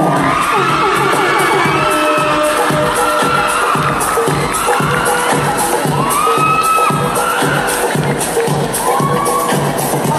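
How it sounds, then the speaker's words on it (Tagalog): A loud crowd at a school graduation ball cheers, whoops and shouts continuously for a pair on stage, with bursts of applause-like banging under the dense hubbub. "Let's give them a round of applause."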